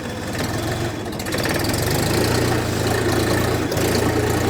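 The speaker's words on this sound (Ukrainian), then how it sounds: "Досить жваво їде на першій повишеній передачі" Xingtai 244 mini tractor engine pulling in first high gear, a loud, steady diesel chug with a low knocking throb that rises slightly as it gets going and holds, briefly dipping once near the end.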